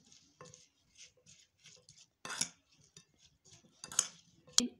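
Potato fries being stirred together with a raw egg and spices in a bowl, giving quiet scattered clinks and soft squelchy taps, with a few louder utensil knocks near the end.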